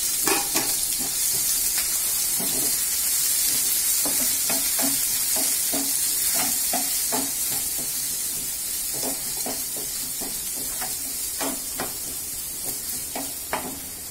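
Onions sautéing in a pan for a taro root fry, a steady close sizzle with repeated scraping stirs throughout.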